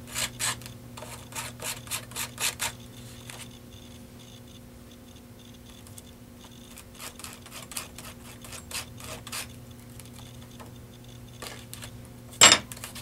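Paint is rubbed from a stencil onto an art journal page in a quick series of short, scratchy strokes, then softer, sparser rubbing follows, ending with one sharp scrape.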